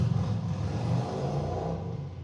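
A car engine rumbles and revs as a vehicle pulls away, loud at first and fading slightly over a couple of seconds.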